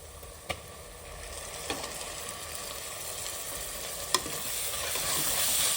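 Tomatoes sizzle and fry steadily in a pan while being sautéed for mutton kulambu, with occasional sharp clinks of a utensil stirring against the metal.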